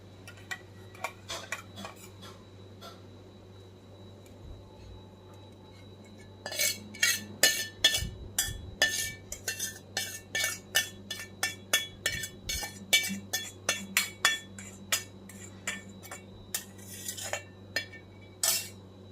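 A spoon mixing spice masala into raw mango pieces for pickle, quiet at first, then a rapid run of close metallic clinks and ticks against the bowl, alone without talk.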